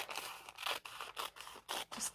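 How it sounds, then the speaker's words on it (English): Scissors snip through a small brown paper bag, with several crisp, close cuts separated by short pauses, heard alone at moderate volume. "I'll just get my scissors"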